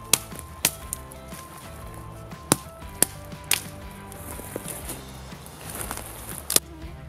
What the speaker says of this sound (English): I'm just using the back of my axe to hit these off